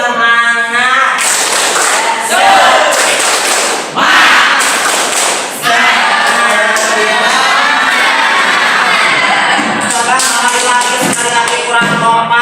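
Classroom of schoolchildren performing the 'tepuk semangat' clapping chant, loud crowd of young voices shouting in unison with rhythmic claps and thumps throughout, a teacher leading.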